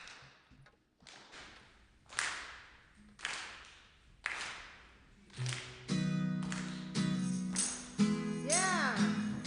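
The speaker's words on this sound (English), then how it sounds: "Come on, give us a clap here." A church congregation at a Unitarian Universalist Mother's Day service claps along in sharp, evenly spaced claps that build into a steady beat, with music joining halfway through.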